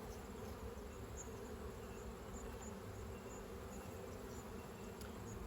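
Honeybees buzz in an open hive, a dense, steady hum that stays loud and close throughout with no voices.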